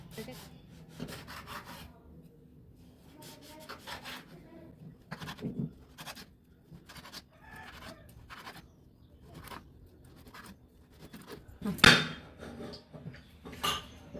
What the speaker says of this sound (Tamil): நம்ம ப்ரெட்டை கட் பண்ணி எடுத்துக்குவோம்